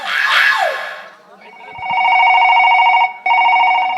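A telephone rings during a rural North Karnataka stage play, a steady repeating electronic ring with a brief break before it resumes, following loud talk at the start.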